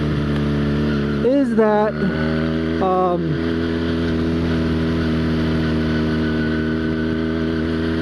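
A Honda Rebel motorcycle engine idles steadily and close up, a continuous low hum that runs throughout, with a person briefly talking over it near the start.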